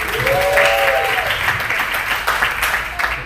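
Steady applause and cheering from a comedy club open-mic audience, loud and continuous, with a brief whoop rising above the clapping.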